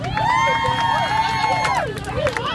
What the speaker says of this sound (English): Can we get some crowd noise?